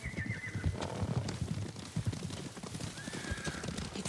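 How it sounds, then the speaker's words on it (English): Horses approach in the video game Ghost of Tsushima, hooves clip-clopping steadily at a distance while two whinnies ring out, one early and one late, all fairly faint. "Horses. They're coming for us."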